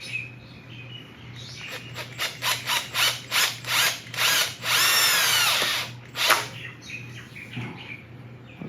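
Power drill driving a drywall screw during truck cab assembly, with a series of short revving pulses building to a sustained whine, then a brief final burst, close up and without speech.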